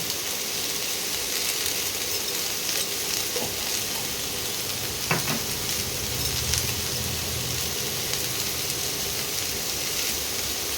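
Cauliflower and potato frying with spices in a pan, a steady, dense, rain-like sizzle throughout with occasional soft scrapes of stirring, close and continuous, without speech.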